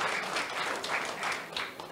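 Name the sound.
applause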